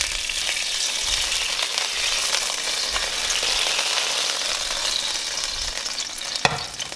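Oil sizzles loudly and steadily in a hot pan, a continuous close hiss with faint crackles and one small knock near the end.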